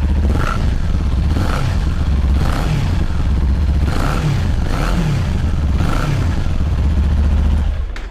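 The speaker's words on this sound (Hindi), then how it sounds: "ये है पैरेलल ट्विन इंजन की आवाज।" A Kawasaki Ninja 400 parallel-twin motorcycle engine runs loud and close, revving up repeatedly in regular surges over a steady throbbing idle.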